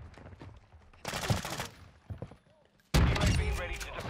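A shotgun fires in a video game, booming in two loud bursts separated by quieter thuds and a short lull, with no speech.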